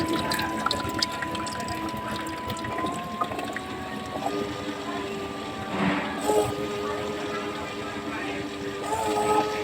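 Water runs and gurgles steadily alongside a mechanical hum, with occasional drips and splashes and faint voices in the background.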